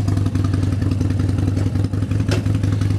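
A Harley-Davidson Sportster 72 motorcycle engine running loud and close, a steady low throbbing rumble with rhythmic pulsing and a brief rise in revs near the end.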